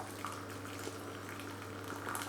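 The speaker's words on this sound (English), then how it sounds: "Just get a good layer" Hot water poured gently into a baking dish holding a Christmas panettone pudding, a soft steady trickle and splash, faint and continuous over a low hum.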